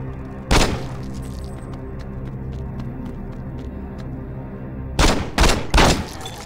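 A loud burst of gunfire in Saints Row 2 during a zombie fight at the start, then a quiet stretch with faint ticks, ending in three more heavy volleys of shots close by.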